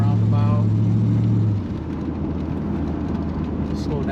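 A numbers-matching 1977 Chevrolet Corvette with an L48 350 V8 is driven on the road. A loud, steady engine drone holds close by, then eases to a lower, rougher cruising rumble with road noise.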